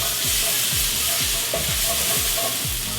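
Fresh minced garlic hits hot oil in a pan and sizzles loudly and continuously, while a spatula scrapes in a steady rhythm of repeated sweeping strokes. No one is talking.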